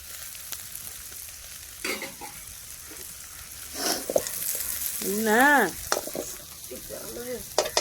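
Curry leaves and coriander leaves sauté in hot oil with a light, crackling sizzle and stirring scrapes, while a voice briefly breaks in partway through.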